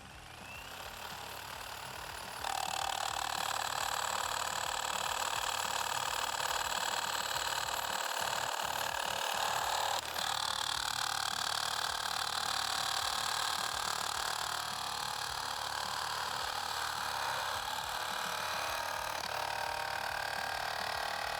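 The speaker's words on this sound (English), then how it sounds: "we're going to cut through that now. First, with the bimetal blade" A Milwaukee Sawzall with a bimetal blade cuts steadily through wood containing steel screws, a continuous loud buzzing rasp that holds for about twenty seconds with slight shifts in pitch.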